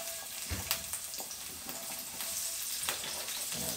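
White onions sautéing in melted beef tallow, a bright crackling sizzle close up with repeated stirring knocks and scrapes, steady throughout with no voices.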